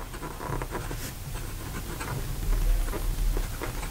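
An Esterbrook Estie fountain pen nib drawn reverse-side across paper gives a soft, continuous scratchy rasp with faint irregular ticks of strokes, close and steady with no talking.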